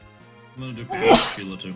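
A single loud, sharp human sneeze bursts out mid-conversation, close to the microphone, between stretches of someone speaking over a quiet gaming session.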